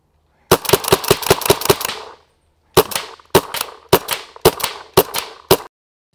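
A Predator Autococker paintball gun running low on air fires rapid bursts of sharp, loud close shots, a quick string of about eight followed after a pause by slower, evenly spaced single shots, with no talking.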